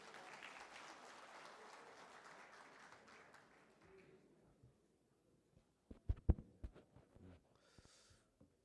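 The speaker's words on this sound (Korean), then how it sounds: "김기영 세무사장님을 뜨거운 박수로 맞이해 주시기 바랍니다" Audience applause at a ready-mix concrete industry CEO seminar welcomes a guest speaker, a steady, fairly faint patter of clapping that fades out after about four seconds, followed by quiet and a few scattered knocks and rustles.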